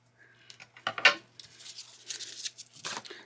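Scissors cut lace trim for a mixed-media art journal with several close, crisp snips and rustles of the trim, sounding alone.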